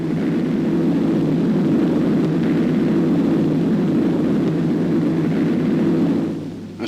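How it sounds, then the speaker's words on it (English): Carrier-launched bomber aircraft fly over Iwo Jima in 1945, a steady, loud engine drone that fills the whole stretch without break, then eases slightly at the very end. "Carriers, lying back of the main fleet, sent in hundreds of bombers."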